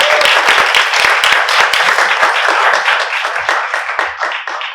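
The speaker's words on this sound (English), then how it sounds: "can we please give Toastmaster Benedict now a round of applause?" Audience applause at a Toastmasters speech contest, dense clapping from a room of listeners that holds steady, then thins and tapers toward the end, with no voices over it.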